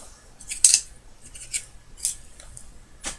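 Metal spoons and cutlery clinking: a handful of sharp, bright clicks and taps spaced irregularly over a quiet background, close and light, with no talking.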